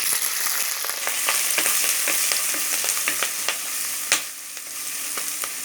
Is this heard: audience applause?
no